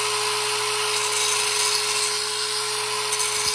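A DeWalt DCG412B angle grinder runs steadily while sharpening and flattening a blade edge, a continuous high whine held at constant loudness throughout with no talk.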